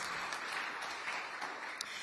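An audience at a Pacific leadership event on gender equality gives a round of applause, a faint, steady patter of clapping heard from a distance.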